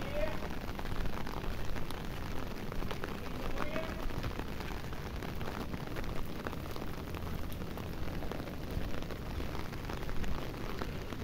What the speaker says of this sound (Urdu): زبردست بارش ہوئی ہے